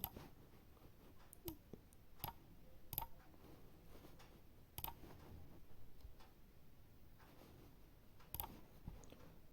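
Soft taps on a mobile phone's on-screen Urdu keyboard, a sparse scatter of faint clicks spread unevenly over several seconds, with no talking.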